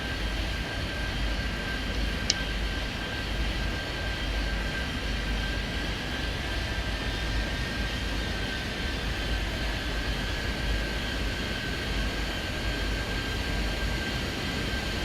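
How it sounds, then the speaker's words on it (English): A Boeing 737 airliner comes in to land in Airport Madness 3D. Its engine noise forms a steady, broad jet drone with a high whine, continuous and unchanging for the whole stretch, with no talking. "This 737 is coming in pretty fast"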